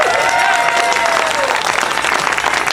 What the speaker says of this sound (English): So please give him a little applause.